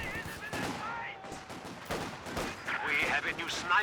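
Machine gun fire and scattered gunshots in a Company of Heroes 2 match, bursts of crackling reports that sit partly beneath a commentator's voice in a busy battle.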